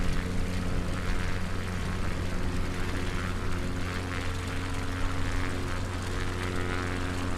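Light propeller plane flying along the UK coast in windy conditions, heard from inside the cabin as a loud, constant droning engine and propeller hum with no talk.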